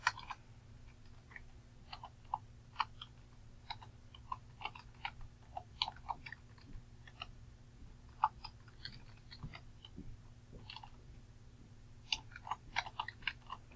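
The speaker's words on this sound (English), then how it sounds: "And I'm just going to type the names right here." Keys clatter in irregular bursts on a computer keyboard as names are typed, soft near clicks with short pauses over a steady low hum, no voices.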